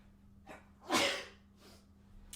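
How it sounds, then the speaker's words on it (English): A single sneeze bursts out close and loud near the middle, preceded by a short intake breath and followed by a softer exhale, over a faint steady hum. "I'm about to sneeze, bro."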